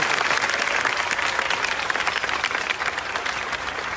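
Loud, dense audience applause fills the space continuously for several seconds, many hands clapping together at close range with faint crowd murmur underneath.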